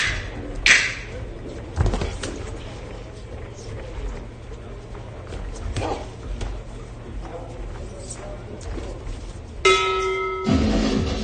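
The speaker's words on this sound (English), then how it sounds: "There goes the bell at the end of the round." Boxing bell ringing to end a round at the IBA Champions Night final fight, a bright metallic clang near the end over a noisy arena crowd and a commentator's speech.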